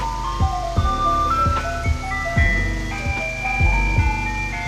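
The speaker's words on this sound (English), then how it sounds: "oh, sure, just park in front of me, ice cream man." An ice cream truck parked nearby plays its melodic jingle, a tinkling repeating tune with thumping low rumbles under it, moderately loud and close, with no talking.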